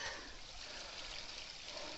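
Small waterfalls trickling steadily through a muddy outdoor area in the rain, a continuous even splash and gurgle with no talking over it.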